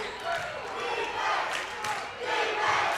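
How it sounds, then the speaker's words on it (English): Gym crowd at a boys high school basketball game between South Ripley and Jac-Cen-Del, both cheering sections on their feet, roaring and cheering steadily in a loud, dense swell with rises and dips throughout. "Got both cheering sections on their feet."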